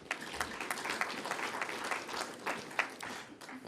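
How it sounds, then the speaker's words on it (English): At a conference session, an audience applauds a guest speaker in steady, dense clapping that fills the whole short stretch at moderate level, with no talk over it. "May we also give him a round of applause."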